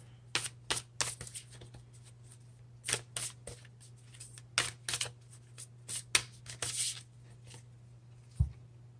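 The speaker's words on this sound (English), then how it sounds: "I do want to pull one Starseed Oracle card." Oracle deck cards being shuffled and pulled, with repeated crisp riffling bursts and soft slaps close up over a steady low hum, ending in a single sharp tap.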